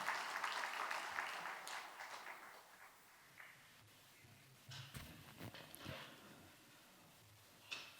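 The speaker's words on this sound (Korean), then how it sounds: "하나님께 영광의 박수 올려드립니다" Congregation clapping in a church during a men's mission devotion service, a dense burst of applause that is loudest at the start, fades within about three seconds, and leaves only scattered taps and soft movement.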